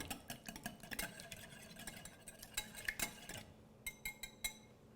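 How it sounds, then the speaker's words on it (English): A whisk beats an orange zest and cinnamon mixture in a bowl, quick rhythmic metallic ticks against the side, fairly quiet and close, ending in a few separate taps. "Whisk this all together"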